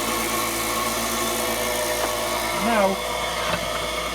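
A wood lathe spins at 4,000 RPM, a steady mechanical whir running continuously throughout, with someone briefly speaking over it.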